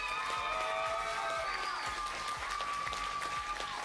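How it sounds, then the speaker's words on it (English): A Quiz Kids studio crowd claps steadily for the team coaches, a dense, even round of applause with light scattered cheers and faint tones underneath, lasting throughout. "let's cheer for your coaches, Jane McCabe and Sarah Iraheta."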